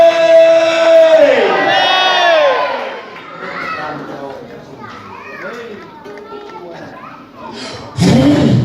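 A church congregation in a temple in Salamanca shouts and cheers together, a loud burst of raised voices and whoops that fades into a murmuring crowd before another sharp surge of cheering near the end.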